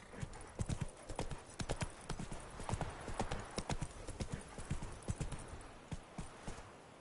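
Hooves of Roach the horse clip-clopping in The Witcher 3, a steady walking rhythm of sharp clops close by, with faint background ambience beneath.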